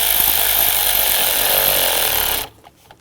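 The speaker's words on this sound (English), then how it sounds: "Now we'll tighten the worm clamp down." A power tool tightens a hose worm clamp during an AC serpentine belt job on a 2015-2020 Ford F-150 3.5L V6, giving a loud, steady grinding whir that runs for over two seconds and then cuts off abruptly, leaving faint clatter.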